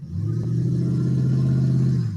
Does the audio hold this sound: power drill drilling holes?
no